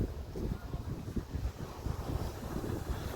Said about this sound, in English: I'm gonna come down to the surf here and see if I can see anything.